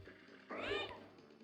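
A single short meow from a cat in the video game 102 Dalmatians, fairly faint, rises out of a quiet background and fades within half a second.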